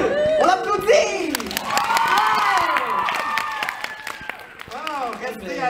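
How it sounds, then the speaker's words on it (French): A birthday show audience, children among them, claps, cheers and shouts with excitement, the cheering swelling over steady applause while voices call out high and loud across the room. "On applaudit!"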